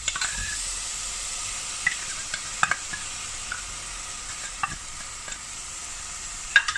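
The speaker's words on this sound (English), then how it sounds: "So we're going to add tuna." Tinned tuna is stirred and broken up in a pan of spicy tuna soup, making a continuous sizzle and hiss with scattered scraping clicks.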